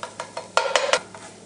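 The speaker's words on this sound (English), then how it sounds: "And put my garlic in there. I want this to cook just a little bit." Garlic cooks in oil in a stir-fry pan for a chicken asparagus dish, heard as a series of short, fairly loud stirring scrapes against the pan, evenly spaced, with no talk.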